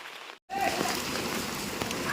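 Steady heavy rain pours down outdoors during a flood, a dense continuous hiss of drops with a brief dropout near the start and no voices over it.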